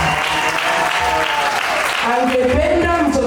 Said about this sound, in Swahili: Tumpigie makofi mengi mengi.